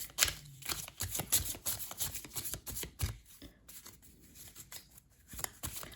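Tarot cards being shuffled by hand in a reading, giving a run of quick papery riffles and soft taps of varied loudness, close and clear with no talk.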